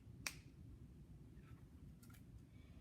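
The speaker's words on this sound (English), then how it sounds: "snap your fingers" A single crisp finger snap rings out near the start, followed by a few much fainter snaps in an otherwise quiet room.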